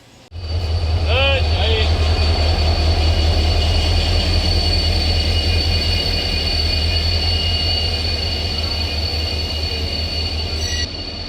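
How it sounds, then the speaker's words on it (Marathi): A train's steady low rumble fills the whole stretch at a railway platform, with a brief high squeal near the start and a constant engine drone throughout. "याच प्लॅटफॉर्मवरून ही ट्रेन डिपार्ट होणार आहे"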